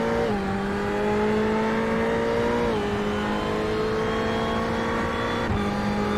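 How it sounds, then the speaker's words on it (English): A race car engine in a sim racing game at Spa, screaming at a high steady pitch with sustained over-revving and brief dips at gear shifts, loud and continuous with no talk. "Sounds like he's going to break that car with all the over revving it does."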